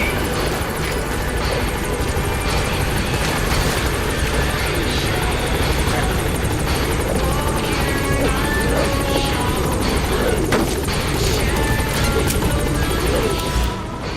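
Pequod transport helicopter arriving in a video game, a steady loud rotor and engine roar filling the whole stretch with scattered clanks and crashes mixed in.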